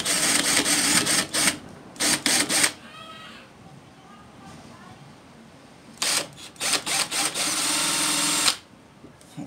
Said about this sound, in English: Then I just take a little drill.